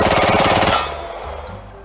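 A Free Fire-style G18 pistol replica fires a dense burst of rapid shots that ends after under a second, leaving a fading ring and some faint room noise.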